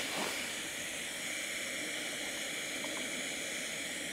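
Primus Lite+ gas stove burner running at maximum flame, a loud, steady broadband roar and hiss that holds unbroken for the full four seconds with no voices over it.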